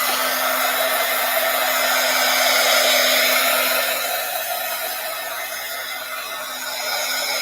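A hair dryer blows steadily on wet gold paint, a loud continuous whir with a constant motor hum that holds for the whole stretch and eases slightly toward the end, with no talking.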